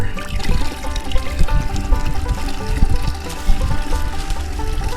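Maple sap pours in a steady, bubbling stream into a container outdoors. The splashing trickle is loud and continuous throughout.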